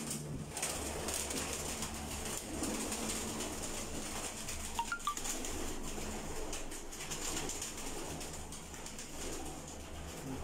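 Pigeons in a loft coo softly amid a faint, hissy background, with a brief flutter or call midway; distant and quiet.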